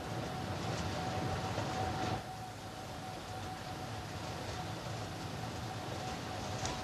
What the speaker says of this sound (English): the trains are built to freewheel downhill